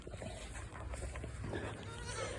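A herd of goats graze on grass in a field, giving off a few faint, scattered bleats over constant low outdoor rumble.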